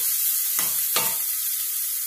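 Dobradinha ingredients frying in a pan until golden, a steady soft sizzle with two brief scraping stirs, close and fairly quiet, no voices.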